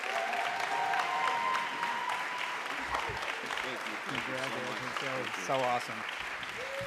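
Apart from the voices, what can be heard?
audience applause for award-winning school team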